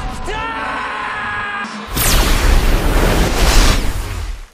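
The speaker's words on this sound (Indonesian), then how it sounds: "Tiba-tiba muncul pusaran air dan ledakan yang sangat kencang dari tengah danau" A film scene of an explosion and whirlpool bursting from the middle of a lake: a loud, broad roaring blast erupts after a brief tonal rumble and keeps surging and churning for several seconds.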